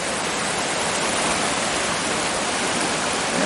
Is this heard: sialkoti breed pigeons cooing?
no